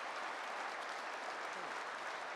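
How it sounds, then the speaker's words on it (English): At an awards ceremony, an audience breaks into dense, steady applause, with many hands clapping close by and evenly throughout the short stretch. "Let's hear a big hand of applause."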